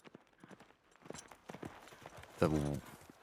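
Clip-clop of horse hooves from The Last of Us Part II video game. Soft, scattered steps sound under quiet background noise, then a louder vocal burst occurs near the end.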